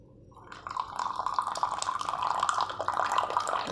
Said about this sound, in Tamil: கொதிக்க சுடுதண்ணியை இதில் ஊற்றுறோம்